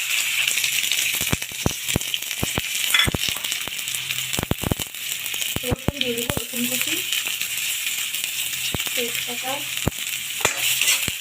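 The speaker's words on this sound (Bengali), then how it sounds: "এখন পেঁয়াজ ভেজে দেবো।" Onions frying in a pan for chicken bhuna khichuri, a continuous sizzle broken by sharp clicks and knocks of a utensil against the pan, with a voice briefly in the background.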